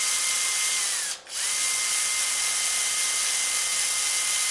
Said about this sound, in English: now I'm going to use a battery drill to turn the crank angle sensor